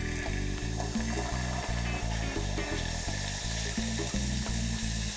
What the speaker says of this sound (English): I'm going to add my pear juice and it's gonna splatter just a little bit